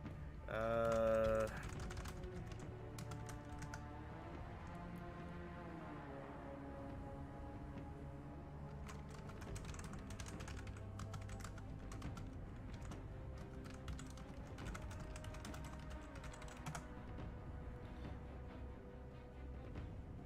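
Faint computer-keyboard typing comes in scattered bursts of soft clicks over low, steady background tones.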